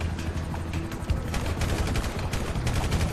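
Dense, continuous gunfire from shotguns and assault rifles in the GTA Online video game, with overlapping rapid shots and bursts sustained for the whole stretch without any talk.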